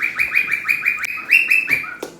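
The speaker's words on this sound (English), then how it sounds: "he hears your bird in the background and then he starts screaming" A pet bird, heard indoors, gives a rapid run of loud, shrill repeated calls and squawks close by, with a few sharp harsher screeches near the end and no talking.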